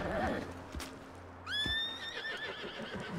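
A horse in the video game Red Dead Redemption 2 gives a loud whinny that rises and falls, following a few hoof clops and muffled game sounds, with a voice faintly present.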